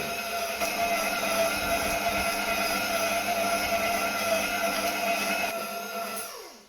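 Electric hand mixer kneading Neapolitan pizza dough, a steady close motor whine with a constant droning pitch held for several seconds, then winding down as it is switched off at the end.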